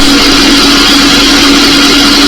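A mixer grinder motor runs after repair, a loud, steady whirring drone with a strong low hum, continuous and close with no talk over it.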